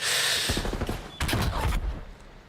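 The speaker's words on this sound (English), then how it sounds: "Exchange of gunfire" A burst of rapid gunfire in a Call of Duty League match rattles out, then a pause and a second volley, loud and close, with a steady hiss of background noise throughout.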